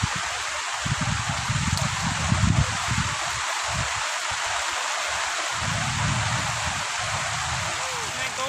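Steady rain falls at night beside a large river in a forest, a broad continuous hiss with rustling, while low voices murmur intermittently underneath.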